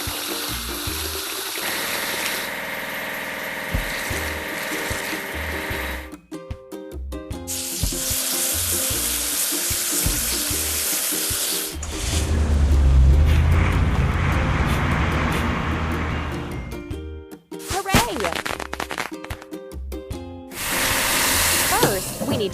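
In a kids' truck game, a truck wash sprays water in long hissing bursts that start and stop several times, mixed with game sound effects and a rumbling engine.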